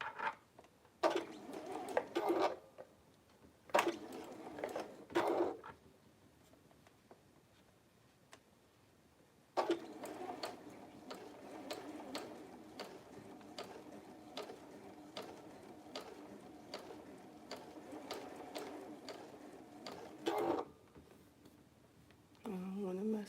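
Domestic sewing machine stitching fabric in the ditch with backstitching, several bursts of rapid mechanical ticking, a long steady run in the middle and a short burst near the end, up close.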